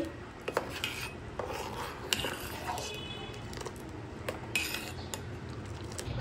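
A spoon stirs shemai vermicelli for payesh in a pot, making close, irregular metallic scrapes and clinks against the pot with no talking.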